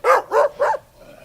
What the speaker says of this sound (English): out of nowhere, I hear some dogs going at it